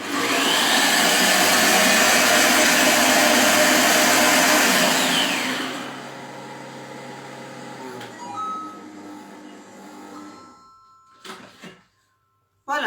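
A kitchen mixer runs at turbo speed blending a cream, a loud, steady high whir for about five seconds that winds down and stops, followed by faint clinks and kitchen handling.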